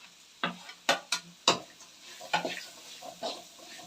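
Grated coconut frying in oil in a pan, with several sharp scraping strokes of a spoon stirring it over a soft, continuous sizzle; close up, irregular rhythm, no speech.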